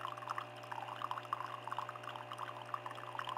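Water pours from a Tassimo T20 single-serve brewer and splashes into a cup, a steady close spatter and trickle with no one talking.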